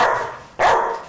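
A dog barks on command, two sharp loud barks close up, the second stronger, with no one talking.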